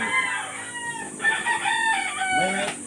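Chickens and roosters at a farm coop in Negros crow and cluck close by, a rooster's drawn-out call rising over scattered hen clucks.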